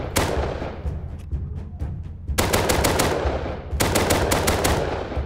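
Rapid automatic gunfire at targets in the video game Rust, loud fast bursts of shots in two long volleys separated by a short pause.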